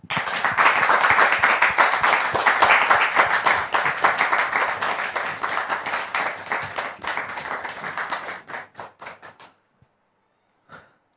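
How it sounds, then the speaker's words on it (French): Studio audience applause on a French talk show, loud dense clapping that thins into scattered individual claps before stopping, followed by near silence and one faint last clap. "sous vos applaudissements."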